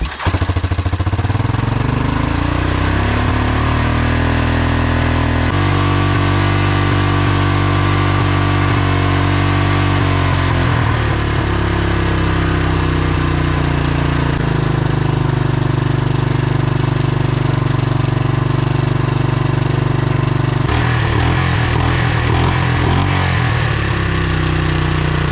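A cheap old four-wheeler's small engine runs steadily at idle, loud and close, with its pitch shifting as the revs change and a rougher, sputtering stretch near the end.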